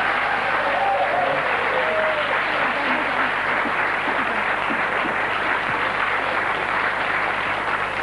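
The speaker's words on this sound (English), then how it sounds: "Give them a round of applause." Steady, full applause from a large television game show studio audience, sustained clapping throughout with faint crowd murmur underneath.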